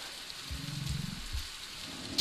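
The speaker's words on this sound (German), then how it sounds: "Ja, es regnet." Steady rain hisses through a scene in the video game Avatar: Frontiers of Pandora, a broad constant wash with soft low rumbles, heard alone without talk.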